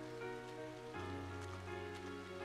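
Rainy-weather ambience from the video game Trails of Cold Steel, set in the town of Trista: a steady, soft hiss of rain that continues without a break under a sustained tonal music bed.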